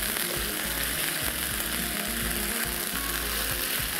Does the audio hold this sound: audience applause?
no